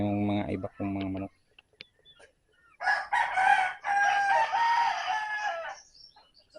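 A rooster crows close by, followed by a long, loud crow from chickens as other fowl cluck around.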